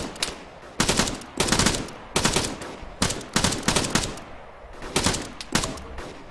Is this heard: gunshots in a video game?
yes